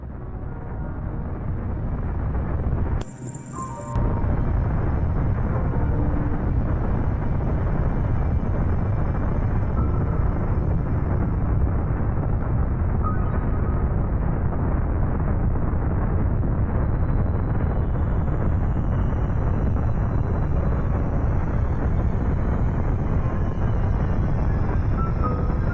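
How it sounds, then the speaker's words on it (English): Mount Dukono erupts on Halmahera Island, Indonesia, as a dense, continuous roar that fills the whole stretch at high volume. It briefly dips and falters early on, then rumbles on steadily with no voices. "With Mount Dukono exploding in a towering column of thick black smoke"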